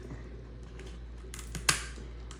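Kitchen scissors snip through a lobster tail shell. A few faint clicks lead to one sharp, crisp crack of the shell, close and quiet with no talking.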